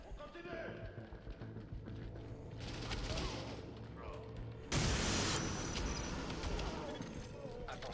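Gunfire in the video game The Division, with bursts of rapid shots and busy combat noise, including a sharp loud burst midway, while people talk over the action.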